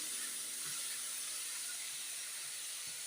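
Onion and salt sauté in a pan for mor kuzhambu, a soft, continuous sizzling hiss that stays even and fairly faint throughout, with no talking.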